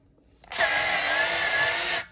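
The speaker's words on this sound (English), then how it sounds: "I'm just loosening off the tension on these springs a little bit" A power drill or screwdriver whirs steadily for about a second and a half while loosening the tremolo bridge springs in a guitar's rear cavity. The sound starts and stops abruptly and plays alone, close and loud.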